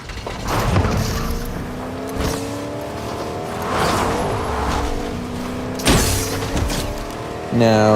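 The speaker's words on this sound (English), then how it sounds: "I get this pickup truck here and manage to run someone over with it." A pickup truck in Fortnite drives with a steady engine drone that rises and falls in pitch as it accelerates, with occasional impact bursts, heard under game sounds and some talk.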